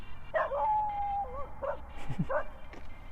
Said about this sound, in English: I've got to wait for the dog to shut up